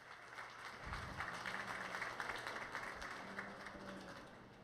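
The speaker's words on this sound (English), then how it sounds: "let's give them a big round of applause" Applause from the audience at a 4-H sheep show arena for the finalists: steady, fairly faint clapping that runs for several seconds without a pause, with no talking over it.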